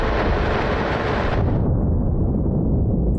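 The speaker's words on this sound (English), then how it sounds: "Come on, cannons, get in there." Ship cannons firing in the space game The Last Starship, a dense roaring blast that fills the first second and a half, then drops to a heavy low rumble, loud with no voices.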